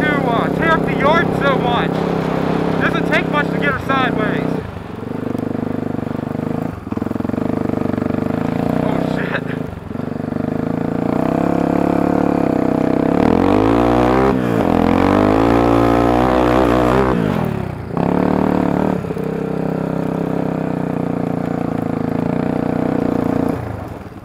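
Honda 300EX quad ridden fast through snow, its engine droning loud and close throughout with pitch rising and falling as it revs and accelerates, a brief wavering surge midway, with a voice talking over it.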